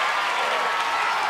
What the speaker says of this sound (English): The sound of this crowd, not allowing that to go on any longer.